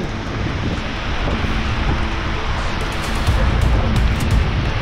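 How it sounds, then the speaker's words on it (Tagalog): Strong wind roars in continuous gusts against the microphone, with a dense hiss of heavy rain beneath, loud and steady throughout, at a beach camp in a van in Zambales. "Bigla na lang dumating ang napakalakas na hangin na merong kasamang malakas na ulan."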